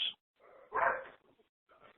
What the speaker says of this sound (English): Who's got a dog barking?